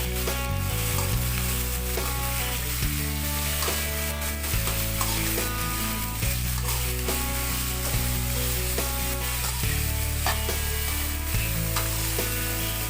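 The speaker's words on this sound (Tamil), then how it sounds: "எண்ணெய் காஞ்சதும் பாவக்காய் போட்டு வணக்கிக்கலாம்." Bitter gourd strips sautéing in two spoons of hot oil, a steady dense sizzle and frying crackle running throughout, close and fairly loud, with no talk.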